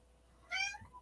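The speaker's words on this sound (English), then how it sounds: "I just heard the meow." A domestic cat gives one short, clear meow, moderately close in an otherwise quiet room.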